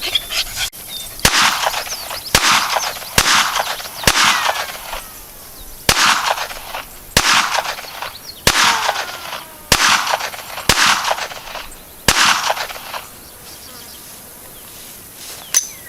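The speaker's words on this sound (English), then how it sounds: "I think I'll try shooting it at 10 yards and see what happens." A Browning Buck Mark Medallion pistol fires about ten sharp, loud shots at a steady, unhurried pace outdoors, each crack followed by a short ringing tail, then quiet ambience.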